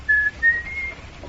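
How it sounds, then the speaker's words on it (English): In a radio mystery drama, the murderer whistles a faint, eerie tune offstage: three thin sustained notes, each a little higher than the last, over quiet room hiss with no talk. "Wait, listen. It's the whistling killer."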